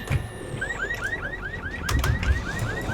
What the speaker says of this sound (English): That's a car alarm if I jump on that.